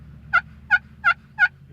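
A wild turkey gobbler, heard during spring hunting in Massachusetts, gobbles four times in an even rhythm. The rattling calls are clear and fairly close over quiet outdoor background.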